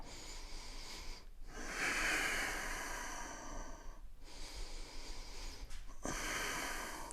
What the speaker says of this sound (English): 3 more deep breaths here.